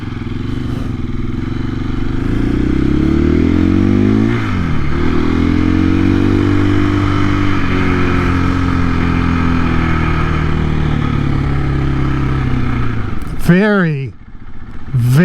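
2024 KTM EXC-F 500 dual sport motorcycle riding on a street, loud close engine climbing and falling through gear changes, with a rider speaking briefly and wind buffeting near the end.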